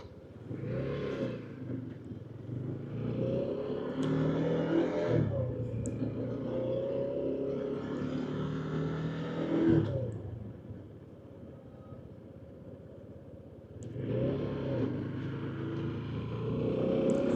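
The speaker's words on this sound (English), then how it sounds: "let's go back through this traffic" Car traffic on a road in Ivory Coast, passing engines rumbling and swelling in waves, with vehicles approaching and fading at moderate distance and brief quieter gaps between them.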